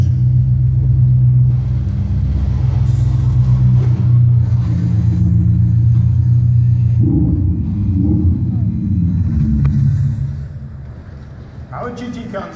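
A deep, loud Mercedes sports car engine rumble idles and throbs steadily at an auto show, shifting pitch partway through before dropping away near the end.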